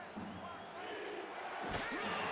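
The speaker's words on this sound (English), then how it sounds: "the Hunting Grounds crowd picks up a chant of defense" A stadium crowd at the Hunting Grounds roars steadily through a short-yardage moment in a football game between Oklahoma City and Seattle; the dense, sustained crowd noise swells slightly toward the end, with no individual chant words distinguishable.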